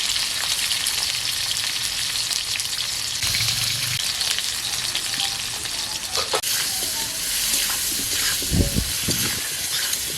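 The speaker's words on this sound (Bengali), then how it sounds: "এবার তেল দেব, পুরো ভেজে নেব। নুন হলুদ দিয়ে পেঁপেটাকে ভেজে নেব।" Cut papaya pieces fry in hot oil with salt and turmeric, giving a dense, close sizzle that hisses steadily throughout, with brief bubbling bursts and a few utensil knocks near the end.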